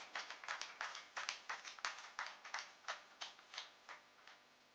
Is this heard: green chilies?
no